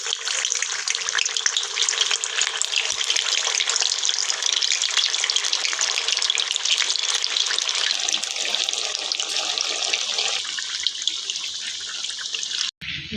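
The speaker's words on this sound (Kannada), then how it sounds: "ನೋಡಿ, ಈ ಥರ ಎಣ್ಣೆಯಲ್ಲಿ ಒಂದೊಂದು ವಡೆಗಳನ್ನು ಬಿಡ್ತಾ ಇದ್ದೀನಿ." Sabudana vadas sizzle in a pan of hot oil, a dense, continuous bubbling hiss that stays loud and close for the whole stretch, easing slightly near the end with a sharp knock just before it closes.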